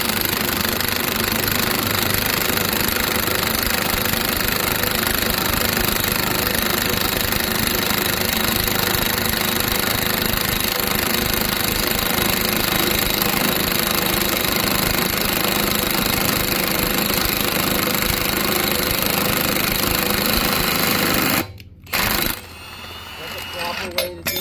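A bearing extractor tool is tightened into a Honda wheel bearing with a loud, continuous mechanical whirring and knocking that holds steady for about twenty seconds, then cuts out abruptly near the end.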